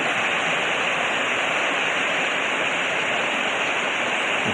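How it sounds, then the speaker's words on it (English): Cascades Waterfall in Virginia pours in a loud, unbroken roar of rushing water heard up close, steady and dense for the whole stretch with no voices. "Here's one of the nicer, prettier areas where the water's really flowing."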